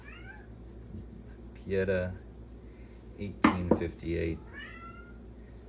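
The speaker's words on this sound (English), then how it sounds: "Meow to you too, sweetheart." A cat meows in short, close calls near the start and again near the end, with someone talking and a few clunks of handling in between.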